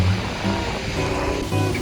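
Sea waves wash steadily against the rocky shore beside the Jeju Olle coastal walking path near Samyang Beach, a continuous surging rush of surf up close, with no one talking.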